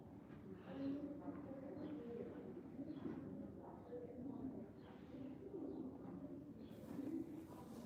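Pigeons or doves cooing at a Chicago zoo, soft low coos repeating throughout amid steady crowd murmur and people talking nearby.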